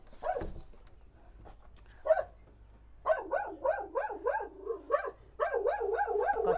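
Small dog in a sparse mountain-village house barking in a run of sharp, yappy repeated barks, quiet at first and then loud and rapid at close range, with no talk over it.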